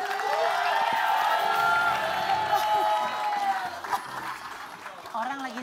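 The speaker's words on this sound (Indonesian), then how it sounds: "tepuk tangan dulu." A studio audience on an Indonesian TV show claps and cheers with whoops, loud at first and then fading as voices and talk take over.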